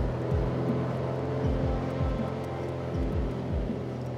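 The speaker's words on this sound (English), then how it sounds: "If I release the parking brake, now turn the throttle to flat out." A light aircraft engine in Microsoft Flight Simulator drones steadily at full throttle, a constant low buzzing hum with faint intermittent thumps beneath it.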